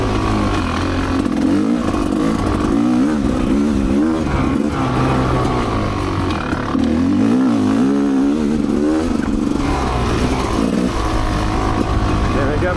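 An off-road vehicle rides along the Frederic ORV trail in third gear, its engine droning loudly and steadily with shifting revs, bumps and clatter throughout.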